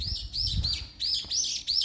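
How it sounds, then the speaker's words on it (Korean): Birds chirp and tweet in a Jeju garden planted with lawn and trees beside a dense forest, bright repeated calls in short bursts close by, with a low rumble underneath and no voices. "새소리도 나고"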